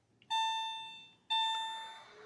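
Key-in-ignition warning chime from the instrument cluster of a 2001 Porsche 996 C4: two sharp electronic tones about a second apart, each fading slowly, clear and close in a quiet room.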